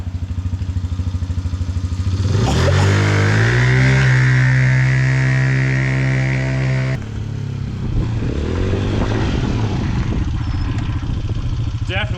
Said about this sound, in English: Definitely revs up faster